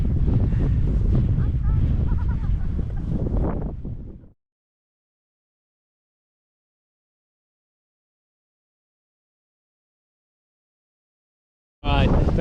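Strong wind buffets a microphone at a lake during stillwater trout fly fishing, a loud rumbling roar for about four seconds, then sudden silence before a brief gust of roar returns at the end.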